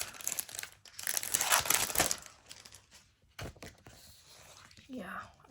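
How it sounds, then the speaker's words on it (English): Clear stickers are peeled from their paper backing during a planner subscription box unboxing, with close, soft crinkling and tearing rustles in irregular bursts and brief pauses, while a person speaks quietly nearby. "Trying to get these out of the paper."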